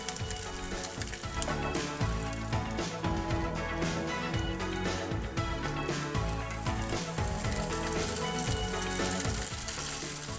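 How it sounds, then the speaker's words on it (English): Tofu pan-fries until browned and crispy, giving a continuous dense sizzle and crackle with a faint clatter running through it. The sound is steady and close throughout, with no speech. "We're gonna cook the tofu until all sides are browned and crispy."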